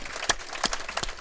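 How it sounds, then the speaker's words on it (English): A few scattered, sharp hand claps ring out from a crowd at a high school football game, three distinct claps spaced over a quiet background. "we're going to have a round of applause"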